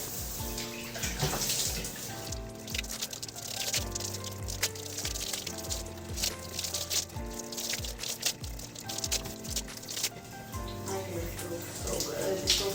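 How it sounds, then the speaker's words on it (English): Running water rinses shampoo out of Type 4 hair in a continuous splashing rush, heard close, with music playing in the background. "So let's go ahead and rinse the shampoo out."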